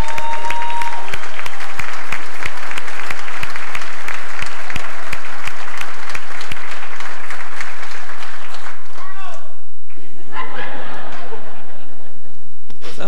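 A room full of audience members applauds for a conference center supervisor at a conference center opening, a dense sustained clapping with some laughter that fades out after about nine seconds, followed by quieter crowd murmur.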